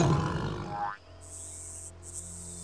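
A tiger in an animated series gives a deep, rough roar that fades out after about a second, followed by quieter background music.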